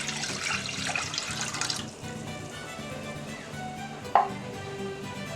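Water runs from a kitchen tap into a pan while cooking mole poblano, a steady close splashing and pouring stream that softens partway through, with a brief clink of a pan or utensil near the end.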